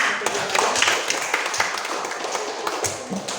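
Scattered clapping from schoolchildren in a classroom, a busy patter of many small hands at uneven rhythm, moderately loud and close, with faint voices mixed in.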